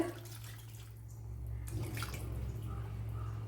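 Water used to rinse a mixer-grinder jar is poured into a simmering snake gourd curry, a short, quiet trickling splash over a low steady hum.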